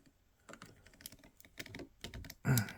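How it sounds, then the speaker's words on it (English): Clicky ratchet joints on a die-cast Sentinel RIOBOT toy robot figure with metal parts, giving off a run of small plastic clicks and ticks that grows to a louder burst near the end, close by with no talk. "you can hear the clicky ratchet joints"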